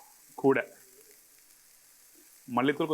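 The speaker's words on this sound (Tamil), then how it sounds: "இப்போ இந்த வெங்காயம் தக்காளியும் இந்த மாதிரி பக்கத்தில் வதங்கி வந்த பிறகு" Onions and tomatoes sauté in a pan with a steady, soft sizzling hiss beneath two short bursts of talk.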